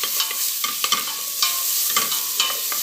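Onion and paprika sizzle in a hot pan, with bursts of crackling and a spoon scraping and stirring at irregular intervals.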